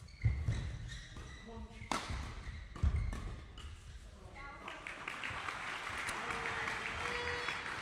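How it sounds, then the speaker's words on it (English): Crowd applause breaks out at a National Badminton League match between Bristol Bullets and University of Nottingham, building into sustained clapping after several sharp thuds and taps, with speech heard early on. "crowd enjoying Will and Ollie getting it level"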